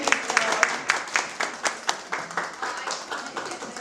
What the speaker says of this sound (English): give a big clap to Joe and say thank you for the talk